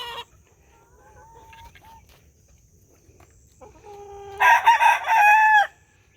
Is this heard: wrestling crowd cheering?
no